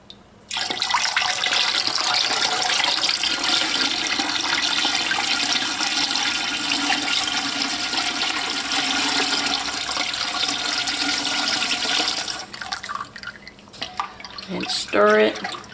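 Potash solution poured steadily into a pot while liquid laundry detergent is made on a stove: a continuous close, splashing liquid stream for about twelve seconds, then it trails off into a few drips and a brief clink.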